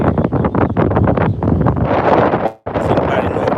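Loud, roaring gusts of wind from Tropical Storm Bertha batter the microphone continuously on the Gulf of Mexico coast, briefly cutting out before surging back just as strong.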